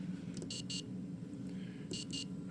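A piezo beeper on a Digispark board gives two pairs of short, shrill beeps over a steady low hum, moderately loud and alone.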